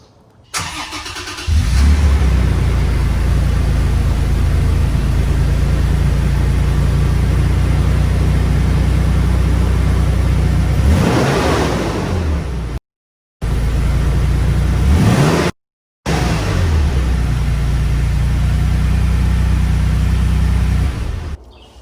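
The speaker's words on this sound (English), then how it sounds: "We're going to start it up so you can hear what it sounds like just outside from the rear with the chopped exhaust." A Toyota Tacoma pickup engine cranks and fires up from a cold start, then settles into a loud, deep rumbling idle through a chopped exhaust, heard close from behind.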